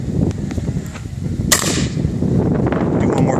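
A single sharp crack from a Cooey 25 Canuck takedown rifle fired outdoors, sounding midway through a stretch of low background rumble.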